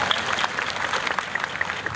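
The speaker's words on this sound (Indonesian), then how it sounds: "Ya, tepuk tangan semua." An audience applauds at an official ceremony for a provincial sports week in Tanah Laut, a continuous even wash of many hands clapping at moderate volume for about two seconds.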